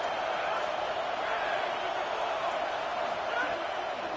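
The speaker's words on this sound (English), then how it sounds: "Listen to this crowd just shaking the girders of this place," A dense, steady roar from a big stadium crowd in the College Football 27 video game, a continuous wash of cheering noise with no breaks, loud and close.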